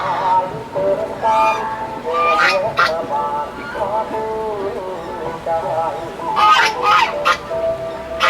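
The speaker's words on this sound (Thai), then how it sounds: "ที่นี่มีทั้งเป็ดทั้งห่าน" Ducks and geese at a farm honk and quack in overlapping bursts, with a busy crowd murmuring and talking underneath throughout.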